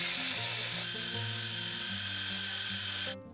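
A food chopper grinding cooked liver makes a loud, steady motorized whirring for about three seconds, then cuts off abruptly with a brief falling whine.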